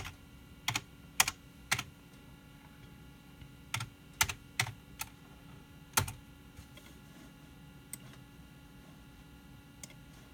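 Someone types a folder name on a computer keyboard of a Windows 98 PC, sharp quiet key clicks in short irregular bursts with pauses, close and alone against faint room hum.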